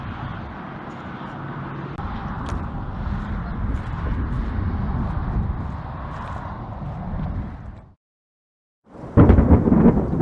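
A thunderstorm rolls outdoors as steady rain and deep rumbling thunder fill the air, cutting briefly to silence before a louder, close burst of rough noise returns.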